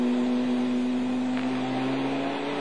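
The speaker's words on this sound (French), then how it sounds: "Attention, gros freinage avec le ralentisseur Dunlop." A Chrysler Viper race car at the 1999 Le Mans 24 Hours makes a loud, close, steady engine drone with a strong sustained tone, heading into a hard braking zone, with no talking.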